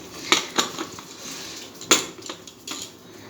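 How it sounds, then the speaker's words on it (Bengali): A metal pressure cooker lid set loosely on top of the pot, a few light clanks and metallic taps scattered across a few seconds in a quiet kitchen. "এর জন্য প্রেসার কুকারের ঢাকাটা আটকাবো না, ওপরে হালকাভাবে এটা দিয়ে রাখবো ঢাকাটা"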